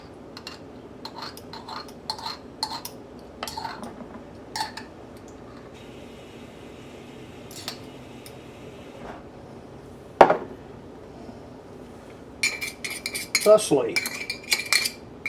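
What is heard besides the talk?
mixing honey and mustard together in a bowl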